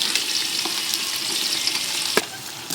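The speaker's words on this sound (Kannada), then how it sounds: "ಎಣ್ಣೆ ಕಾಯ್ದಿದೆ. ಇವಾಗ ಈರುಳ್ಳಿ, ಸ್ವಲ್ಪ ಬ್ರೌನ್ ಕಲರ್ ಆಗಲಿ." Onions frying in hot oil for biryani give a steady, dense sizzle throughout, with one brief clink of a utensil near the end.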